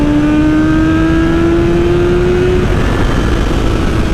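A 2020 BMW S1000RR sportbike with a flashed, unrestricted ECU pulls hard through fourth gear, its engine note rising steadily in pitch as it accelerates, loud and close over steady wind roar.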